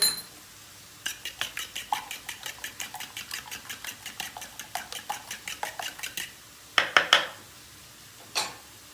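Salted eggs whisked in a bowl with a utensil, a quick rhythmic run of close metallic clinks and taps, followed by a few louder knocks and a final tap.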